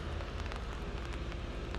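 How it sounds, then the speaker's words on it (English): Rain pattering on an open umbrella outdoors, a close, steady crackle of drops on the canopy at moderate loudness with no voices. "I don't know if you guys can hear the rain falling on it yet."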